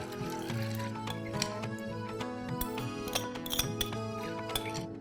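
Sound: dal being put into a steel pot

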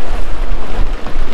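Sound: rough sea waves and swells against a jetty

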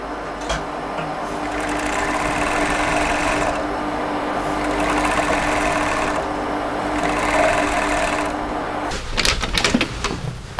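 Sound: overlock serger sewing machine stitching a seam

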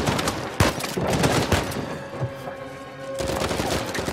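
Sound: sniper rifle gunfire in video game Uncharted 4

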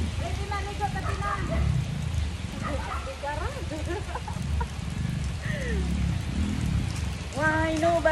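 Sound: rain falling while children bathe outside

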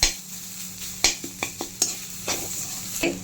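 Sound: onion with ginger garlic paste sautéing in a pan

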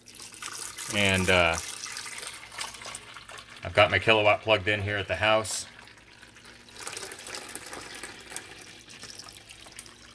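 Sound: filling a coffee pot carafe with water from tap

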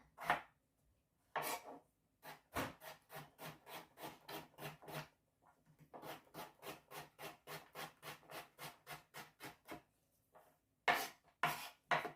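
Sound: knife chopping potatoes into small pieces

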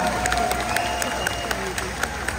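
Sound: audience applause at a political rally

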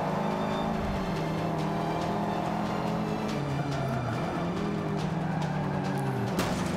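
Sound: car accelerating in Forza Motorsport 5 video game

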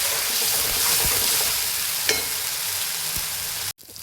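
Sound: tomato masala cooking in a pan

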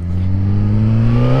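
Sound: motorcycle engine revving, exhaust note

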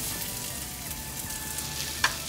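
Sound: bacon frying in a frying pan

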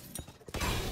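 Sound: turret being destroyed in the video game Valorant

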